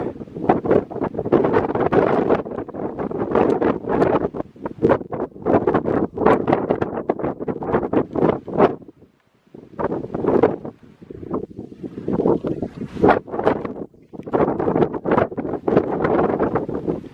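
Strong gusty wind at Trail Crest on the Mount Whitney trail, a loud continuous roar buffeting the microphone, with a brief lull partway through before the gusts return.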